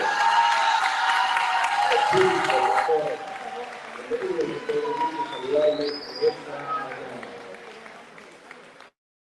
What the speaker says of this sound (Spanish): Que se escuchen fuertes los aplausos para el doctor Raúl Francisco Brown Méndez